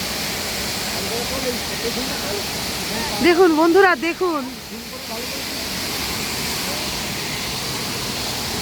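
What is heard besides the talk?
waterfall with spray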